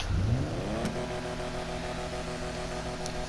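In the GTA Online game, the turbo on a Lampadati Casco spools up: a rising engine rev in the first second, then a steady tonal hum and whine that holds, with a faint hiss later.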